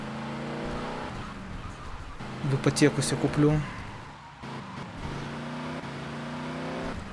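Greenwood car engine in the video game GTA Vice City, a steady low hum throughout with a brief louder rev in the middle, under someone speaking.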